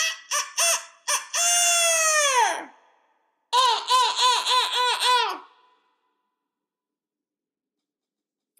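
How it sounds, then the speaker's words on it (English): A call whistle makes harsh, honking squawks: a quick burst of short notes and a long drawn cry, then a rapid stuttering series, with silence after. "I got a fucking crow and a rooster whistle."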